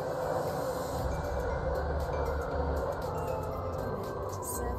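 Train in the video game Stepford County Railway pulling into a station, a steady loud rumble and hiss of the carriages running continuously throughout without a break.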